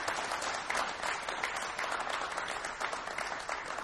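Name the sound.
audience applause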